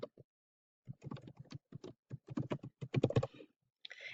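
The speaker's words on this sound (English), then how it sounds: "You would type in your email address, and you would type it in twice" Close, crisp keystrokes tap on a computer keyboard as an email address is entered, coming in quick irregular runs after a short pause, with no voices.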